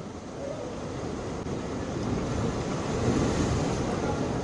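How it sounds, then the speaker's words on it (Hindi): Strong cyclone winds and crashing sea waves on Suvali beach near Surat roar as a continuous, loud wash of noise, with heavy wind buffeting the microphone throughout and no voices. "इतनी तेज हवाएं वहां पर चल रही है कि जो लकड़ी के या"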